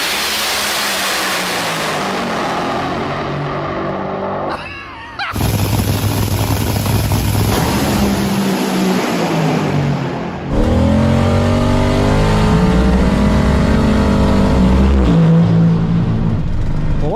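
A drag racing car races a Corvette, with loud engines roaring and revving that cut out abruptly and then resume, sustained and close throughout.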